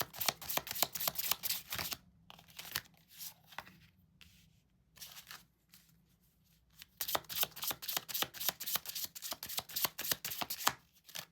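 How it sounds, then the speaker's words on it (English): Oracle cards being handled and shuffled by hand: rapid crisp riffling flutters in bursts, a quieter pause of soft handling in the middle, then more brisk shuffling, close up with no speech. "hold the oracle cards here"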